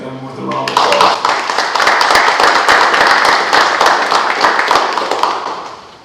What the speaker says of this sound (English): So if you would take a moment to thank them with a round of applause.